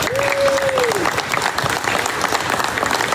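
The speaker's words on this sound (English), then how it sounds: "Let's give everybody here a round of applause." Audience applauding at a press conference and ribbon cutting for a distribution company's grand opening in Odessa, Texas: steady, dense clapping from a crowd, sustained throughout, with a brief whistle near the start.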